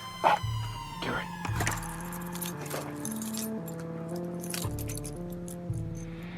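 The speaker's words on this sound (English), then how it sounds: "Get my keys." Keys jingle and clink in short bursts, close up, over a quiet background hum with a soft musical tone underneath.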